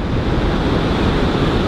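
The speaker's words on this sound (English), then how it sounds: "as you can hear the surf beating in the background" Ocean surf beats steadily on a Southern California beach, a continuous, loud wash of breaking waves with wind rushing across the microphone and no voices.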